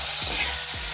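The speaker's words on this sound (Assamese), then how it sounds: "এইখিনি ভালকৈ ভাজি ললো" Tomatoes with turmeric, salt and spices frying in a pan for fish egg curry, a close, continuous sizzle with two quick stirring scrapes in a single second.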